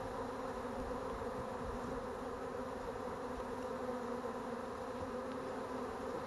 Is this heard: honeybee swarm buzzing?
yes